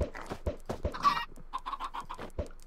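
Chickens clucking in the Minecraft video game on PC, a series of short, moderately loud game clucks spread across the clip, with no talking.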